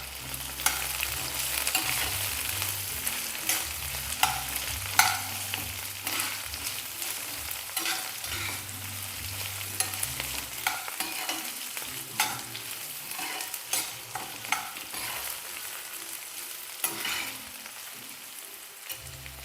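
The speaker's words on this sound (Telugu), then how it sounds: "వీటిని మనం ఫ్రై అయితే చేసుకోవాలి." Whole spices (cinnamon, cloves, cardamom, coriander seeds and black pepper) frying in a pan for prawn curry, a steady close sizzle with frequent scraping stirs throughout, no voices.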